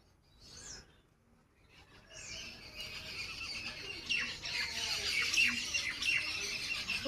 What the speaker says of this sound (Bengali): ওই জায়গাটার মধ্যে কত পাখি চিৎকার করছে